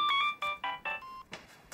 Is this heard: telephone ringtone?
yes